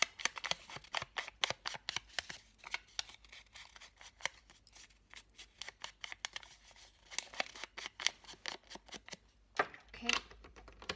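Distress tool scraping along the edges of coffee-dyed paper for a vintage junk journal, a run of quick, dry rasping strokes in close, steady bursts with brief pauses, fairly quiet and with no talk over it.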